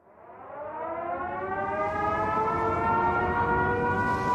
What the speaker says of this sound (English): all of a sudden I heard the siren go off.